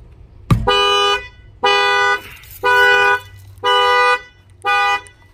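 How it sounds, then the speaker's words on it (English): A sharp bang of thieves hammering on a car in Miami is followed at once by the car alarm honking in five loud, evenly spaced blasts, each about half a second long. "The alarm fires off"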